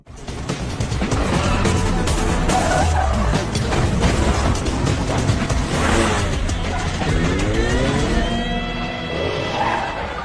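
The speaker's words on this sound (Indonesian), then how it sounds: "Tae-jung pun tak tinggal diam dan langsung tancap gas mengejar mobil sport mereka." A sports car chase in a Korean action film: loud revving engines and repeated squealing, skidding tires, with sharp screeches rising near the end amid dense action-scene noise.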